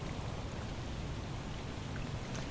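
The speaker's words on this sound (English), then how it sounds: "The rain has started to pick up out here again" Steady rain falls over a flooded Houston neighborhood at night, an even wash of droplet hiss filling the scene without pause and with no voices.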